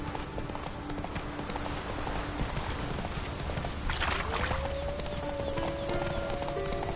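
The horse Roach galloping in The Witcher 3, a dense, steady clip-clop of hooves throughout, with a brief whinny-like tone partway through, amid game ambience.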